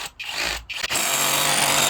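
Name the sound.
SDS drill drilling into masonry for anchor bolt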